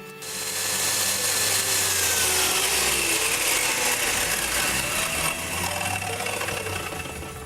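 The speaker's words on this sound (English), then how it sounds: "cut that out of Melina hardwood" A power saw cuts through Melina hardwood, a strong but lightweight wood, in a workshop. A loud, steady grinding whine carries through the whole stretch without pause, and no one speaks.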